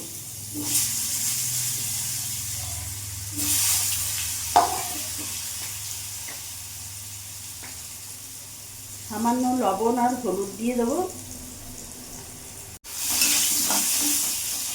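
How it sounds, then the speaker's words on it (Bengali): Potatoes frying in the leftover oil from the aubergines for a pomfret fish curry: a steady, moderate sizzling hiss with a few clinks and stirring sounds, while someone talks over it partway through. "ওই তেলের মধ্যে আলুগুলো ভেজে নেব"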